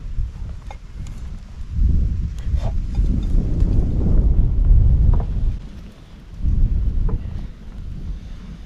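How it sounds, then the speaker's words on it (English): Wind gusts across a late-fall backcountry campsite, producing loud low buffeting and rumbling against the microphone that rises and falls in waves, with no speech. "Just the wind can be a little irritating."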